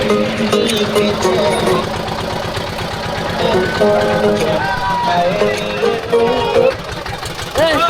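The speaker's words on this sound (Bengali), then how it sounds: "ওই যে আমাদের আরেকটা ট্রলার যাইতেছে" A passenger trawler boat's engine chugs steadily on the river near Sylhet's White Stone area, a loud, close, continuous rhythmic throb that runs the whole time, with voices faintly mixed in.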